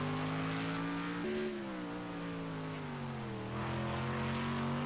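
A Mercedes race car on a qualifying lap in a sprint race at Long Beach, its engine droning steadily with pitch shifting as it shifts gears and varies speed, heard at a moderate distance.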